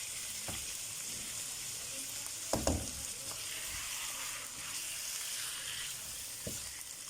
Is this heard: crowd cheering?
no